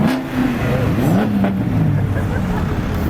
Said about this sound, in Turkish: Evet beyler Camaro ve Mustang aragaz veriyor.